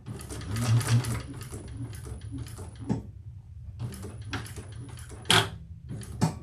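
A sewing machine top stitches a handbag made from a Janie Bag pattern, running in several close, loud bursts of rapid mechanical chatter separated by brief pauses.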